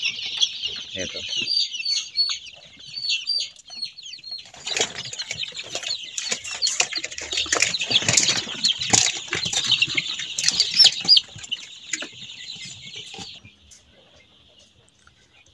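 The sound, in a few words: chickens being fed, clucking and flapping wings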